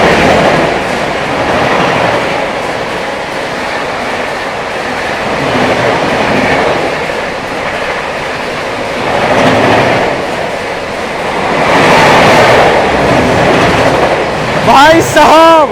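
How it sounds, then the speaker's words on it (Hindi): The New Delhi–Ranchi Jharkhand Sampark Kranti Express overtakes on a parallel track with a loud, steady rail roar and clatter rising and falling in waves, ending in a brief wavering high tone. "पीछे से आती हुई अपनी ट्रेन को ओवरटेक करने न्यू दिल्ली रांची झारखंड संपर्क क्रांति एक्सप्रेस"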